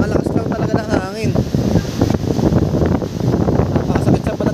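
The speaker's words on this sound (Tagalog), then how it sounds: "Napakalakas lang talaga ng hangin." Very strong wind gusting across a Boracay beach, a dense roaring rush battering the microphone throughout, with a voice briefly heard near the start.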